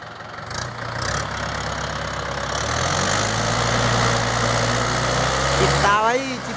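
A Mahindra 575 tractor strains to haul a load of 4,500 bricks over rough, poor ground, its heavy diesel engine droning loud and close and rising in effort, while someone talks over it.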